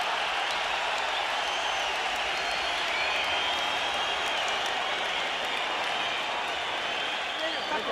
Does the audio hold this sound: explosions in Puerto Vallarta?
no